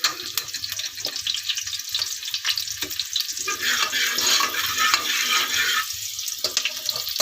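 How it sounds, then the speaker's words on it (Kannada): Onions fry in hot oil in a pressure cooker for a village-style chicken sambar, giving a steady close sizzle with bright crackles and occasional stirring scrapes. "ಅದಕ್ಕೀಗ ಈರುಳ್ಳಿ ಸ್ವಲ್ಪ ಹಾಕ್ತಾಯಿದ್ದೀನಿ. ಎಣ್ಣೆ ಕಾದೈತೆ"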